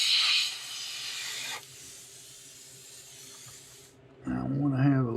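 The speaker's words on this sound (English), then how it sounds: "spraying onto the stencil" An airbrush hisses steadily as paint is sprayed onto a stencil on a craw fishing lure, a close, continuous spray that cuts off near the end before a voice begins speaking.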